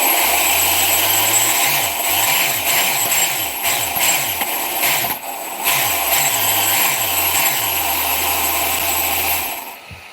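Electric motor of a high-speed RC basher car running at throttle, a close, loud whine that repeatedly sweeps up and down in short pulses before settling into a steady hum, no talking.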